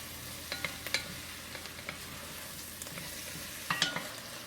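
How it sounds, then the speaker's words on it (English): Mushrooms and onions sautéing in a pan give a quiet, even sizzle with a few light stirring scrapes and taps scattered through, heard close and alone. "while I'm sauteing these"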